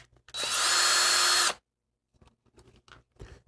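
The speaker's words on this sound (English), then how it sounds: "I'm using a drill, unlike everybody else on YouTube who uses screwdrivers." A handheld power drill backs screws out of a black power line filter box in one steady high-pitched whir lasting about a second, followed by quieter clicks and handling of the loosened parts.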